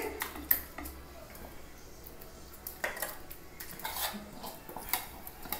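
Mango custard stirred continuously in a pot of milk, repeated spoon scrapes and clinks against the metal in an irregular rhythm, close and fairly quiet with no one talking.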